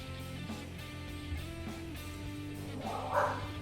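A dog indoors barks and yips a few times over a steady tonal background hum, with the loudest bark near the end.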